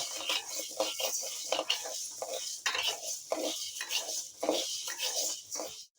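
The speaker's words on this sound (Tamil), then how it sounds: "உளுந்த வறுத்துக்கலாம்" Urad dal being dry-roasted in a pan, with a quick, irregular rhythm of scraping and rattling as a spoon stirs the lentils against the metal, close and fairly quiet.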